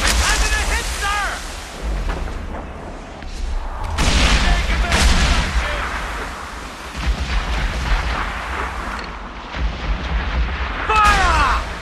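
Ship cannons fire in Assassin's Creed 4 Black Flag, with several heavy booms and crashing bursts spread through the scene under frequent shouted dialogue and battle noise.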